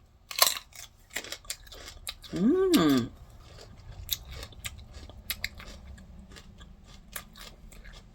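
Crisp crunching bites and chewing of a fresh white cucumber that has turned yellowish, heard as sharp close crunches spread through the clip, with a short hummed vocal sound in the middle.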